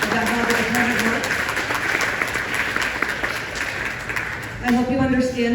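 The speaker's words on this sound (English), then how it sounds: "I think deserves a very strong round of applause" An audience at a public strategic plan presentation breaks into sustained applause, dense clapping that runs throughout, with a speaking voice rising over it near the end.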